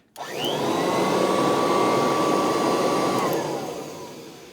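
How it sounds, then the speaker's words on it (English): A Kirby Heritage II upright vacuum cleaner switches on abruptly and runs with a loud, steady whirring roar, then begins to wind down near the end. "And then you got your good old vacuum back."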